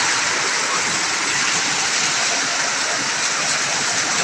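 Tiny hail pouring down in Fairview, a constant broad rushing patter of ice striking the ground and roofs, steady and loud throughout with nobody speaking.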